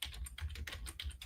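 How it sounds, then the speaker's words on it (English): Rapid typing on a computer keyboard, a quick run of close, clicky keystrokes in an uneven rhythm lasting about a second, with no voices. "slow down the typing"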